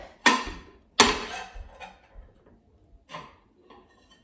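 Ceramic plates clatter as a cinnamon-roll king cake is flipped from one plate onto another. Two sharp, close clanks come first, followed by a few fainter knocks and clinks in an otherwise quiet room.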